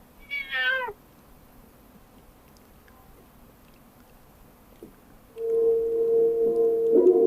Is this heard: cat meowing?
yes